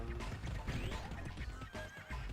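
A horse whinnies loudly over clip-clopping hooves in Dynasty Warriors 3, with busy game sound effects around it.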